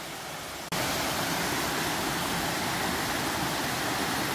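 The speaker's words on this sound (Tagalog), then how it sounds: "So naririnig na natin ang tubig dito." Kaytitinga Falls in San Jose del Monte, Bulacan, abruptly bursts in, loud and close, its dense white rush continuing steadily without pause.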